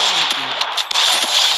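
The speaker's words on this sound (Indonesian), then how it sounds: "Ini nembaknya sembarangan" Rapid automatic gunfire from the mobile shooter Free Fire, a dense burst of quick shots at even loudness with a few sharper cracks, close and continuous with no talking.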